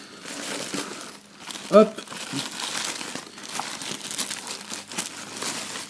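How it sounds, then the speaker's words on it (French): Crinkling plastic and cardboard packaging as a boxed Xbox One cooling fan is unpacked, with one brief sharp rustle and someone talking over the handling noise throughout. "Donc on va le déballer, on va voir un petit peu ce que ça donne."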